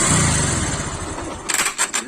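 A Bajaj Discover 135 motorcycle with a self-start fault in for repair, its engine firing and running loud and close with a rough mechanical rattle, then a few sharp revving bursts near the end.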